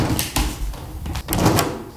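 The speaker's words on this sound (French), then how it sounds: "La porte devrait pouvoir s'ouvrir et se fermer en douceur, sans frotter le sol." A newly hung wooden door in a masonry opening is swung open and shut nearby, giving a few dull knocks and soft scraping shuffles.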